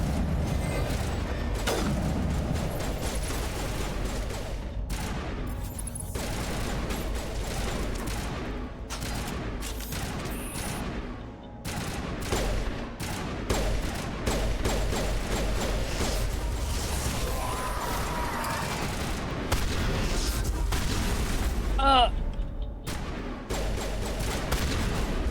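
Continuous gunfire and mechanical clatter fill a BioWare video game firefight, steady and loud throughout, with brief whooshes and creaks layered in and no talk over it.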